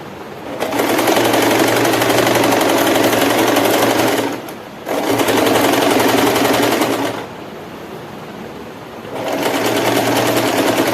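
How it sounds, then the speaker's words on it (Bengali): A sewing machine lock-stitches a saree border in loud, rapid, continuous bursts, three long runs separated by short pauses, running close with no voices. "এখানে লক সেলাই দিয়ে আমি বার করে নিচ্ছি।"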